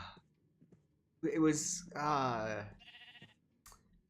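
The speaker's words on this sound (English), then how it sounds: "Shut up, sheep!" Sheep bleat in Minecraft Bedrock, two or three wavering, nasal calls in the middle of the clip, close and fairly loud, separated by short pauses and followed by a brief faint click.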